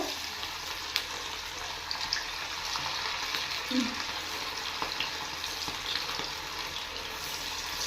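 Chicken pieces fry in a pan of hot oil for chilli chicken, a steady crackling sizzle throughout with a few sharper pops and scrapes.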